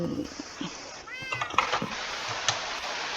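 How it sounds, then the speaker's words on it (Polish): A cat meows once in the Minecraft video game, a rising, wavering call over a noisy game soundscape with faint clicks and thumps around it. "O, tu kotek jest, cześć."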